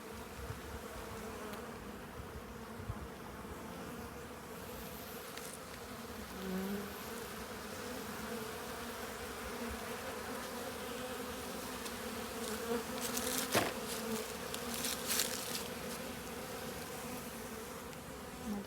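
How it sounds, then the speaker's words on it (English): Saskatoon honeybees inside an open hive give off a steady, dense drone that swells slightly midway, with a few faint clicks and knocks over the continuous buzzing. "Saskatoon honeybees"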